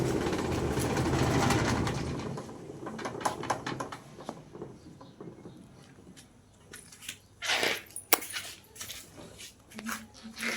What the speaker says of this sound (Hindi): तो जी आज मेरी मम्मी धो रही है कपड़े, और यहाँ पे चल रही है मशीन।